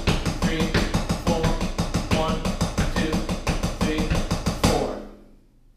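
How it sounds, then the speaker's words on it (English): Drum kit playing a steady five-note sticking pattern over a quarter-note pulse, dense regular hits at even tempo, loud and close, then ringing out and fading at the end. "the third exercise is going to be dealing with 5 notes."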